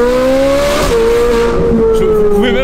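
A LaFerrari engine revs loudly and continuously near the car, its steady high-pitched tone sliding gradually lower over a few seconds with a faint tire-squeal edge.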